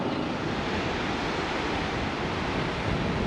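Strong wind and rough surf roar at Yeppoon beach as a dense, steady wash of broadband noise, loud and unbroken, with no voices.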